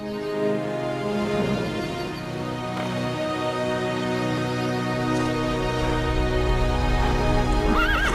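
A horse whinnies in a long, wavering neigh over a steady game soundtrack in Castlevania: Lords of Shadow – Mirror of Fate HD, followed by a second shorter whinny near the end.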